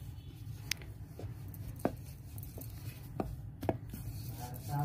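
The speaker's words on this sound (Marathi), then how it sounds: "आपण आता पिठाचा गोळा लाटून घेऊ।" A ball of dough is rolled out with a rolling pin for Sindhi dal pakwan, giving a low, steady rolling rumble broken by a few soft taps and knocks, close and quiet, with no talk.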